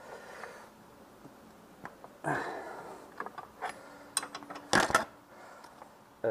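Ratcheting and metallic mechanical clicks from tightening the front wheel bearing assembly on a Peugeot 104 GLS, coming in short scattered bursts close up, with one louder cluster of clicks near the end.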